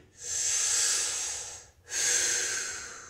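A person breathing hard through a held knee press exercise: two long, loud, close hissing breaths, one ending and the next starting after a short pause, with no talk.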